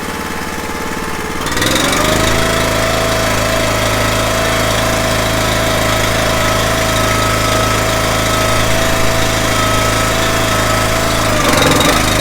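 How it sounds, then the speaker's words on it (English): A small Honda engine, just back from a hydraulic repair, starts up after a quiet moment and then runs at a steady, loud, constant drone that holds to the end. No one speaks. "We have to put engine oil back in the little Honda, and then we'll fire it up and test for leaks."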